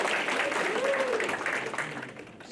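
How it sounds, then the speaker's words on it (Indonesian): Audience at a graduation ceremony clapping together in a brief burst, moderately loud and fading toward the end, with a speaking voice over it. "Kita kasih tepuk tangan untuk anak-anak."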